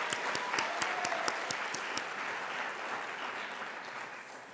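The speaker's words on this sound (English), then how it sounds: "I just want to give you another round of applause for all your incredible work." An audience at a state mock trial competition awards luncheon claps together, with many sharp hand claps early that thin out into softer sustained applause.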